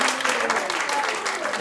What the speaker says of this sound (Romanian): Aplauze dacă aveți cățel!